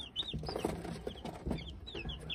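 Hens and young chicks of a Kuchinsky breed flock cluck in short, soft bursts close by, with high thin chick peeps chirping above the lower hen calls across the whole stretch.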